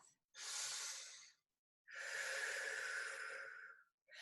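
A pair of slow, deep breaths taken while holding a stretch in a flexibility workout class: two long, breathy rushes of air, close-miked and steady, separated by a short quiet pause.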